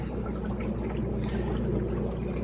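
Liquid pouring steadily into a bag with a continuous gurgling, sloshing rush, close and constant throughout.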